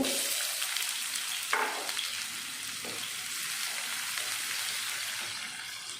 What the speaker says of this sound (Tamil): கடுகு சீரகம் பொரிஞ்சதும் சின்ன சின்னதாக கட் பண்ண வெங்காயம் 1/2 கப்பு